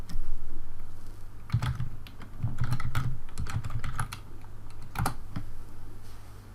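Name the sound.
typing on a computer keyboard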